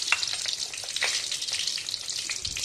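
Mustard seeds, urad dal, fennel and fenugreek frying in hot oil for a Tamil fish curry, a continuous bright sizzle with scattered crackles and pops, close and steady throughout.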